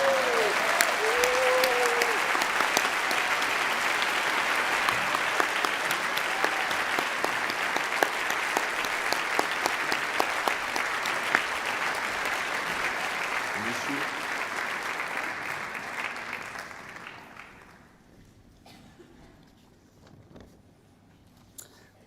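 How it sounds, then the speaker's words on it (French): A dense, steady roar of clapping from an award-ceremony audience for the Albert-Londres book prize, holding strong for about fifteen seconds before fading out to near silence. "Un tonnerre d'applaudissements pour Nicolas Legendre."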